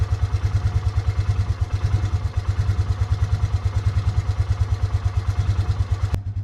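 A Polaris Ranger 500 EFI utility vehicle engine idles steadily and close by, its even chugging pulse broken by a slight occasional stumble, with a brief click near the end.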